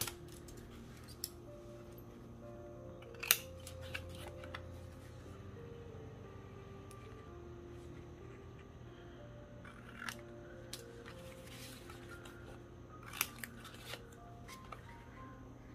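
Scissors cutting paper into tag shapes for a craft project, quiet scattered snips and paper rustles at close range in a hushed room, with a few sharper clicks standing out.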